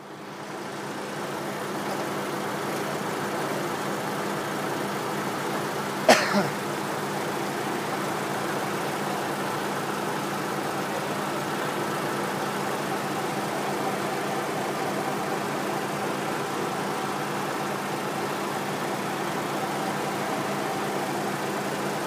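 A 2004 Mazda 6 with the 2.3 engine idles steadily for the whole stretch, a smooth, even, low hum heard close up, with one brief sharp click partway through and no talking.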